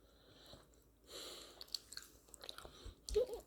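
A soft, strawberry-flavoured marshmallow-like candy being chewed close up, with quiet squishy mouth sounds and small crunchy bites in an otherwise hushed room.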